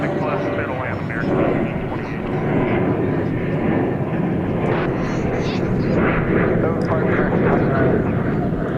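An airliner bound for Doha departs DFW Airport with a loud, continuous broadband engine roar that holds steady throughout, with faint voices beneath it.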